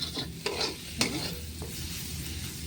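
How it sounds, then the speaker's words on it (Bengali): Shrimp sizzle and crackle steadily in a hot pan, with a few sharp clinks and scrapes of stirring. "চিংড়ি মাছটা আমার ভাজা ভাজা হয়ে গেছে"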